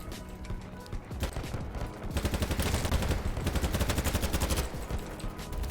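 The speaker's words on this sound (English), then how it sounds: "So I'll try and get some live shots in right now with me trying to control the recoil of this M4." Rapid M4 rifle fire from the game BattleBit Remastered, loud and close, in long automatic bursts with a steady rattling rhythm.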